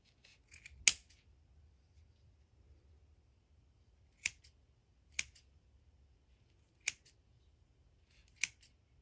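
Scissors snip through a ferret toy in five sharp, isolated cuts: a quick flurry of small snips near the start, then single crisp cuts spaced a second or so apart over a low, quiet background hum. Close and clear, with no talking.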